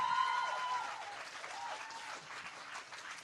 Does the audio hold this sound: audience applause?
yes